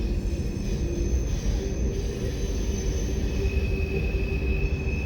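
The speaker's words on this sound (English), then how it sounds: "Now that I see that train still passing over us" A trolley-era train passes overhead, a steady rumbling roar of wheels on rails with thin high squeals running through, moderately loud and constant with no talk.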